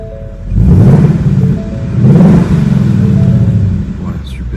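A Ford Mustang Bullitt V8 revs in two loud, deep surges with a steady rumbling idle between them, close by, and a voice speaks over the engine.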